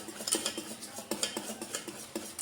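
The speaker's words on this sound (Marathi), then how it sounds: "फ्लफी होईपर्यंत फेटूया आपण" Flour mixture for laddu being whisked until fluffy in a bowl, a steady run of quick scraping metal-on-bowl strokes with sharp clinks, close and moderately loud with no talk.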